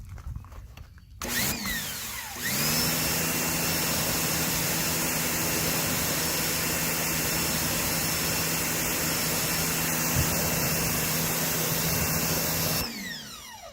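Ryobi SPX3000 electric pressure washer, 14.5-amp, 2030 max PSI, spraying steadily near a garage, a continuous loud whining motor and hiss that starts after a brief pause and runs unbroken for about ten seconds before cutting off.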